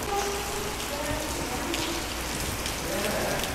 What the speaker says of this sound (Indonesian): ini hujan pemirsa, jadi tidak bisa